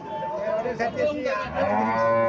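A cow lets out a long, loud, drawn-out moo close by at a cattle market in Cumilla, Bangladesh, with faint background murmur.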